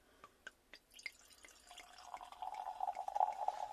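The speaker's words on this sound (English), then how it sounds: "Let's pour it out." Perry poured into a glass: a few scattered drips, then a steady splashing stream that builds and fills, close by with no talking.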